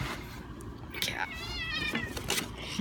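An angry cat lets out a drawn-out, wavering meow with a rising, complaining pitch, fairly close, while a person's voice is heard around it.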